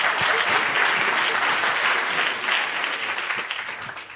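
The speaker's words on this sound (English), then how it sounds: "You can clap." Audience applause fills a hall at the Africa Freedom Prize 2024 ceremony: dense, steady clapping from a large crowd that stays loud throughout and eases slightly toward the end.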